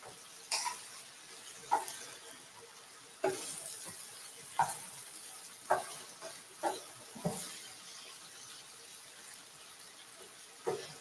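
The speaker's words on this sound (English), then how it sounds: "Now we have the smell of paprika and onion cooking in oil." Paprika and three small white onions frying in oil, a quiet steady sizzle broken by several louder clatters and stirs at irregular intervals, close by with no talk.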